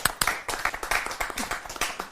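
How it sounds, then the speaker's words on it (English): A small audience applauds at the close of a UK Health Radio show, a brief burst of close, fairly loud, irregular hand claps. "But can we have a round of applause?"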